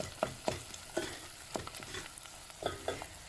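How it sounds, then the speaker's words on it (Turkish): Pepper paste frying in a pan with onions and peppers, a soft sizzle broken by repeated scraping strokes of a utensil stirring at a steady pace, close and fairly quiet with no voices. "Salçamızı yakalım."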